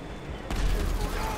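Sudden burst of rapid gunfire in GTA 5, loud and close, erupting abruptly after a quieter moment and continuing as a dense fusillade.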